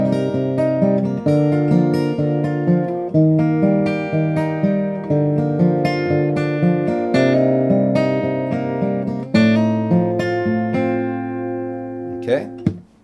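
Acoustic guitar plays a full passage of a song with thumb-picked bass notes under ringing chords and melody, close and clear, ending on a sliding note without speech.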